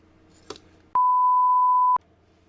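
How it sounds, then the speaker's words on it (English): A single steady electronic beep tone sounds for about a second, clean and loud, after a brief faint click in an otherwise quiet room. "Beep!"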